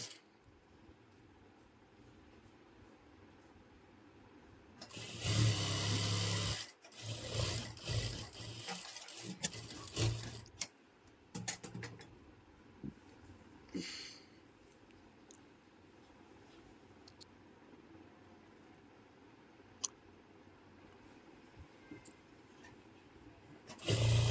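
A sewing machine stitching a Patiala pajama runs in a loud burst of rapid stitching early on, then continues in shorter, quieter runs between pauses amid faint handling noises.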